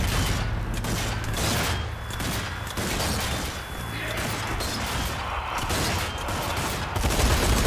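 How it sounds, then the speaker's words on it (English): A gun turret firing in Zombie Army 4, a sustained stream of dense, heavy gunfire with booming impacts that continues with brief dips, loud and close throughout. "Gun turret right here."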